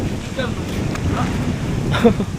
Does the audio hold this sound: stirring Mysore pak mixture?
no